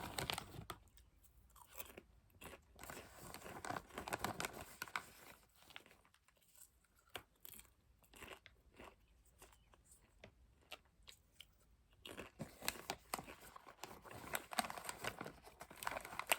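Crunchy snack is chewed close to the mic in an ASMR haircut roleplay, with crisp bites and crinkly mastication coming in irregular bursts separated by quieter pauses.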